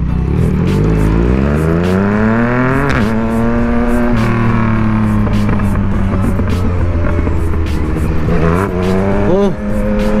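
Yamaha MT-09 motorcycle with a modified exhaust accelerating hard through the gears, engine note climbing in repeated rising sweeps with gear-change dips, loud and close throughout.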